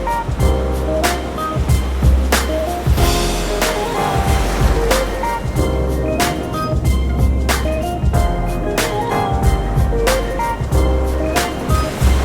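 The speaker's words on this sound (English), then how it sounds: "Yeah, the waves are pretty big here." Big ocean waves break on a Hawaii beach on Oahu with a loud, continuous roar of surf, close by and full, carrying steady crashing energy throughout.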